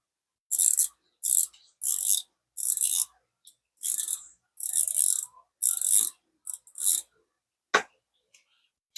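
An Okuma Avenger 3000 size spinning reel lets out its drag in repeated short bursts of rapid clicking, close and crisp, separated by brief silences, with no talking.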